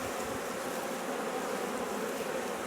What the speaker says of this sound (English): this one here's got a lot of bees on it